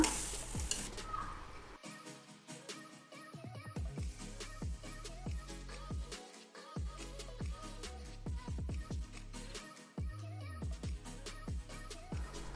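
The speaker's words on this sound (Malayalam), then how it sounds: "ഇനി നമ്മൾ കട്ട് ചെയ്തെടുത്ത മാങ്ങ അതിലോട്ട് ഇട്ട് കൊടുക്കുക എന്നിട്ട് നന്നായിട്ട് തന്നെ ഒന്ന് വഴറ്റിയെടുക്കുക" Cut ripe mango pieces sautéed in a pan give a soft sizzle with rhythmic spatula stirring and scraping, close but quiet, under background music.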